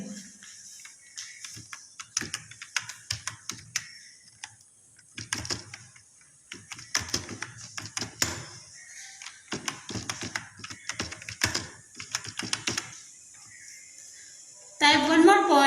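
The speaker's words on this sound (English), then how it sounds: "type here about the hardware" Computer keyboard typing while text is entered into presentation slides: bursts of quick clicking keystrokes at close range, irregular rhythm with short pauses, and a louder thump near the end.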